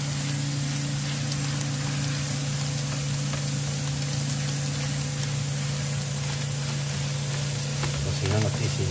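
Chopped onion fries on a taco griddle at a pastor and asada stand, giving a steady, close sizzle that runs unbroken throughout, with a faint voice near the end.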